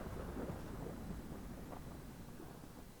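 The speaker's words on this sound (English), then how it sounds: "I know I heard peals of thunder" Thunder rumbles beneath a stormy sea in a tale of a drifting boat, a low, rolling, sustained roar, distant and fairly quiet, with no voice over it.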